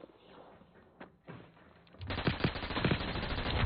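Harpy weapon fire in the video game Hyper Scape, a quiet opening with a few soft thumps and then a loud burst of rapid, evenly spaced automatic shots that runs to the end.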